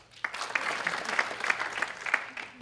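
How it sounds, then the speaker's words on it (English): An audience at a startup pitch event claps in a short, fairly close round of applause, with individual sharp hand claps standing out from the crowd. "quick clap of hands"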